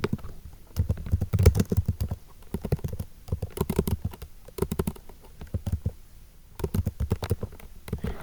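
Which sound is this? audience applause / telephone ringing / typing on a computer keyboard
typing on a computer keyboard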